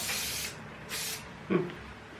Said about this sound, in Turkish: Uçlarına da Benri'nin saç spreyini sıkacağım.